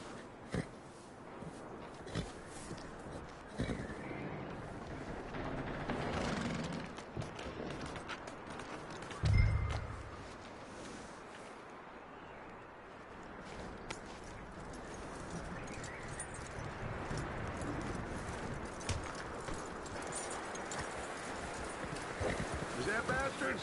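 Horse hooves clip-clopping in a PS4 video game, quiet rhythmic hoof falls under a low game soundscape, with one heavier thud partway through.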